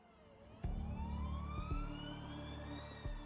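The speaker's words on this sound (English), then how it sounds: "Lauren was taken by ambulance for emergency plastic surgery at the Ulster Hospital" An ambulance siren wails with rising and falling tones, fairly close and steady, over low engine rumble and a few dull thumps.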